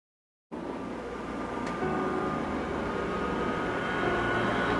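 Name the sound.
jet aircraft takeoff in video game Ace Combat 7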